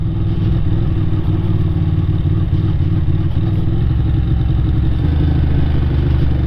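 A Ducati 600 Supersport motorcycle cruising along an old toll road, its engine droning loud and steady with a constant low rumble and mechanical clatter throughout, no voices.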